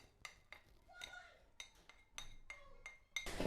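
Minced meat being mixed with finely chopped vegetables and green coriander in a bowl, giving quiet, irregular clinks and scrapes of a spoon against the dish with short pauses between strokes.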